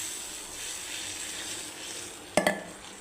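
Hot water poured into frying spice paste for a thin rohu-style fish curry cooked without onion or garlic: a steady low sizzle, then a sudden brief burst of louder hissing and bubbling as the water hits the pan.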